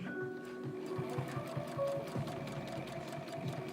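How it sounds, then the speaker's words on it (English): Sewing machine stitching around a sweatshirt band, running steadily and close with a rapid, even mechanical chatter and faint hum throughout. "I'm definitely going to take my sweet old time sewing around this."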